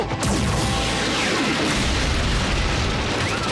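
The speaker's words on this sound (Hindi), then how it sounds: "वहां देखो, और भी हमलावर आ गए हैं। फायरिंग जारी रखो।" Cartoon weapons fire in a Transformers Prime battle: a dense, loud roar of blasts and booming impacts running continuously, with no talking.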